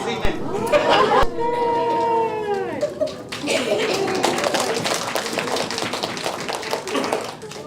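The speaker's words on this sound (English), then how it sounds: "let's give them a round of applause" Voices and a chuckle come first in a leadership training workshop, then a dense, sustained round of group applause breaks out and carries on under some chatter.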